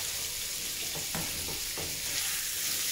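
Lamb meat sears steadily in a hot pan, a constant crackling hiss with a few soft stirring scrapes, close by and with no voices.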